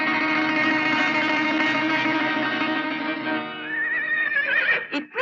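A spirited, unruly farm horse gives a long, loud whinny that rises and trembles, then breaks into sharp nasal snorts at the end, close and alone.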